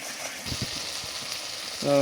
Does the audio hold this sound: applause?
no